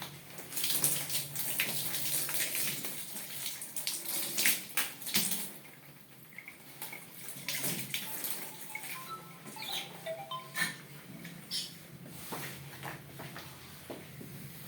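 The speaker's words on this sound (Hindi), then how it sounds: "इसको अभी हम एक बार पानी की मदद से क्लीन कर लें।" Water rinsing over a removed body jet flow restrictor to clean it during a shower body jet and thermostat repair, a steady running, splashing flow with brief bursts and drips, close by and fairly loud, with no talking.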